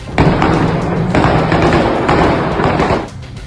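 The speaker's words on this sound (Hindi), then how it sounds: "हर ड्रोन के धमाके के साथ कीव में दहशत बढ़ती गई" Drone strikes explode over Kyiv at night, a series of heavy, booming thuds with rumbling decay, several blasts following one another closely before fading out.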